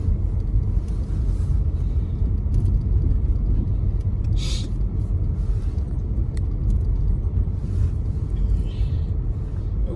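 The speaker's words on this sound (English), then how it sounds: "Good old four-wheel drive." A four-wheel drive vehicle rolls along during a winter storm, its engine and tyres making a constant loud low rumble with steady road noise and the occasional brief higher hiss.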